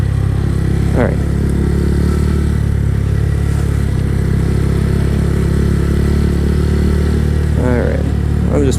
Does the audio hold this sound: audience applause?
no